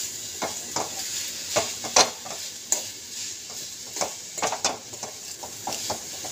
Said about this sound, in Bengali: যতক্ষণ চিনিটা গলে যাচ্ছেন ততক্ষণ এটাকে ভাজবেন